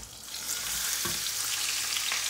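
Chopped green chillies and onions sizzle in about four tablespoons of oil for a Bombay aloo potato dish, a steady, dense hiss with a single soft stirring knock early on.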